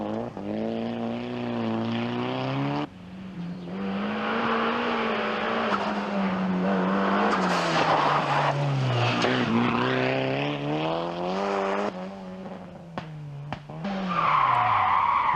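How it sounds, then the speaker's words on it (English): A Group A rally car at a 1987 rally slides on a gravel forest stage, its engine howling and rising and falling in pitch with screeching brakes, loud and continuous, echoing through trees. "With a screech of brakes echoing through the trees"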